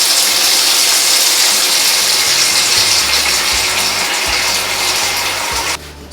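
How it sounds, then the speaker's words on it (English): Hot tap water gushing steadily into a pot being filled halfway, a loud, continuous hiss and splash that stops abruptly near the end. "Take hot tap water, fill this up about halfway."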